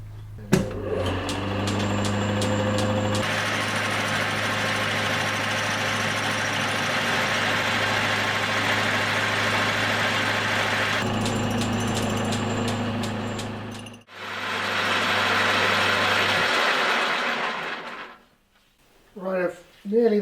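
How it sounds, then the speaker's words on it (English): A metal lathe spins a hybrid propshaft part, a steady loud close mechanical whine with a low hum, changing pitch as cutting starts and stops, then winding down near the end as a voice begins. "I'll get it in the lathe."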